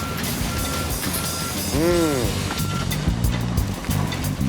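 Truck reversing alarm at a river house demolition site, sounding a steady run of evenly spaced high beeps amid rumbling machinery and site noise, with a brief voice-like tone partway through.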